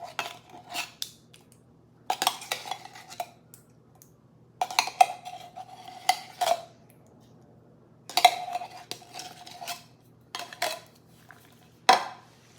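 A utensil stirs a cheesy dish in a pan, giving repeated bursts of metallic clinking and scraping separated by short quiet pauses.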